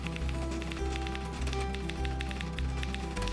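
Manual typewriter typed by a veteran typist outside a chief judicial magistrate court in Guwahati: steady, evenly spaced key strikes and clacks over a low background hum.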